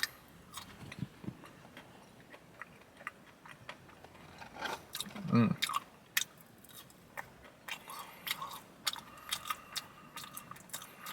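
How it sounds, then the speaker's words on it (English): Someone eats thin, crispy Dairy Queen French fries, giving soft close-up bites and crunchy chewing with scattered small clicks in a quiet room. "So now I'm going to try some French fries."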